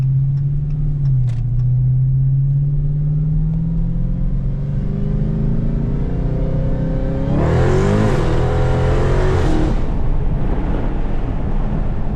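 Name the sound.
Dodge Hellcat Charger accelerating, supercharger whine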